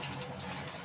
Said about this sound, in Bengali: তেজপাতাটা ধুয়ে